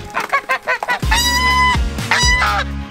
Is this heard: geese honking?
yes